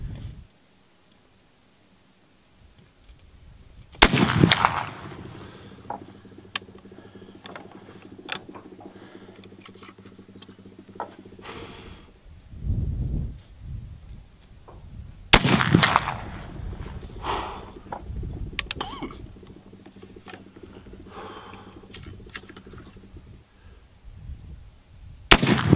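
Loud .50-90 rifle shots fired while sighting in at 100 yards outdoors, two sharp reports roughly eleven seconds apart with a third starting at the end, and quieter handling noises and thumps between them.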